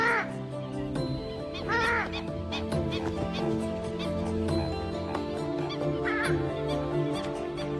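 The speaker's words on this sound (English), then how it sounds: "This is the purple swamp hen, also called the sultana bird, famed for its very loud," Loud, harsh honking calls of a purple swamphen burst out repeatedly over a busy background of other birds, some squawks close and explosive.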